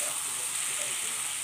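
Flour fritters frying in a spiced masala, a steady close sizzle with soft stirring that holds evenly throughout, no voices.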